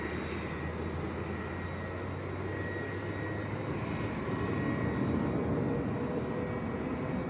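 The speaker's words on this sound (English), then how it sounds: "the TUI Dreamliner as well, going out to Rhodes" A TUI Boeing Dreamliner jet departs Manchester airport bound for Rhodes, its engines a broad, steady roar that swells slightly toward the end, heard alone at a moderate distance.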